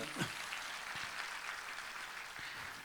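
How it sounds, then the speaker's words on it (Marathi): An audience at a felicitation event with actor Ashok Saraf breaks into applause, a fairly faint, steady wash of many hands clapping at a distance, with a few louder thumps near the start. "आपण जोरदार टाळ्या वाजवूया"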